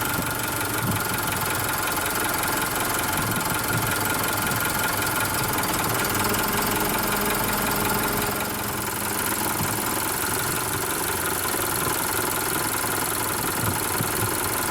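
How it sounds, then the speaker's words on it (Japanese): A registered but unused 2015 Mitsubishi Fuso Canter self-loader crane truck idles steadily up close, its diesel engine giving a continuous loud rumble with a faint knocking rhythm throughout. "次にエンジンを見ていただきます。"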